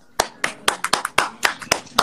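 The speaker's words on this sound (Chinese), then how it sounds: "我哋俾啲掌声佢哋先" An audience claps for special guests at a Cantonese-language show, giving sharp irregular hand claps over about two seconds, close and fairly loud, with no talk over them.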